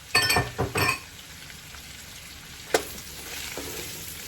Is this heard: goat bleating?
no